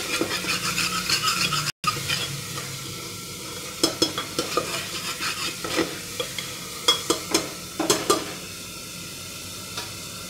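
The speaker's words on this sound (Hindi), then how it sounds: "अब इसको हम अच्छे से चला देंगे।" Arbi and nenua sabzi is stirred in a pan over a low sizzle, with repeated scraping and sharp knocks of a spoon against the metal, loudest in a quick run of strokes near the end.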